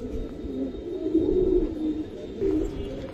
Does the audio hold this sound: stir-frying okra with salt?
no